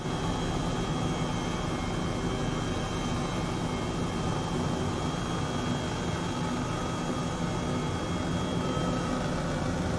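A helicopter in Microsoft Flight Simulator 2020, flying over Iceland toward the Fagradalsfjall volcano, gives a constant droning engine and rotor hum, a steady, unbroken roar with no talk.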